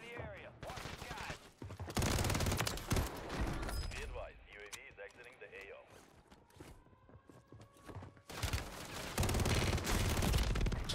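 Rapid gunfire bursts from the Warzone video game on Rebirth Island, loud and dense, firing in two main stretches with a quieter exchange of single shots and mechanical clicks between them, while a player talks over the action.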